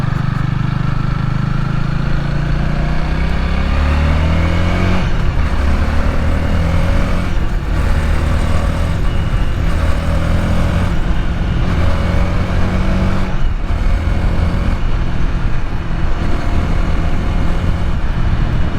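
A 2024 Honda Rebel 300 motorcycle fitted with a K&N air filter cruises on the interstate, its engine a steady, close drone under constant wind rush for the whole stretch, with no talking.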